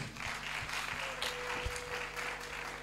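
A church congregation claps and cheers in praise of Jesus Christ, dense sustained applause with rhythmic hand claps and raised voices filling a large room throughout.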